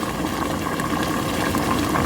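Homemade chili seasoned with lemon pepper and garlic bubbles and sizzles in a hot pot, a dense steady simmer close up with no talking.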